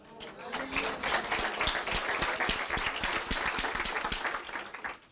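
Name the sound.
congregation applauding for Jesus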